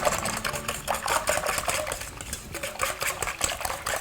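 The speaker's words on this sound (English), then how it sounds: "I'm going to start by mixing 2 cups of milk and 4 eggs, and we'll beat those up" Milk and eggs being beaten together for aebleskiver batter, a fast, rattling whisking or mixer sound close up, continuous with slight pulsing and no talk.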